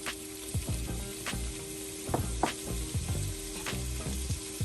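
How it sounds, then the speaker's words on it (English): Smoked jowls frying in hot oil in a pot for Southern collard greens: a steady close sizzle with repeated scraping clicks of stirring throughout. "to the oil, I am going to start adding the smoked jowls"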